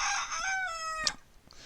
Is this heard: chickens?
yes